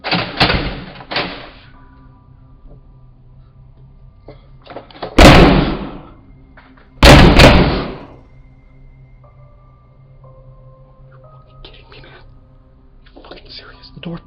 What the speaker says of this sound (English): The door fucking locked.